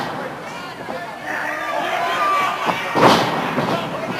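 A wrestler's elbow strike to an opponent's face in an NWA St. Louis wrestling match lands as a dull thud amid the murmur of an arena crowd, with a commentator talking over it.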